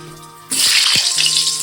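Large chunks of potato dropped into hot mustard oil in a wok: after a short quiet moment, a sudden loud, steady hiss and crackle of frying begins and continues close up.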